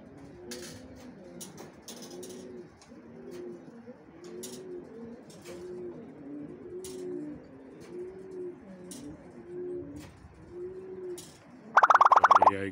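A pigeon perched on a rock gives steady, repeated low coos in a slow rhythmic series, moderately near, with faint background chirps and a brief loud burst of noise at the end.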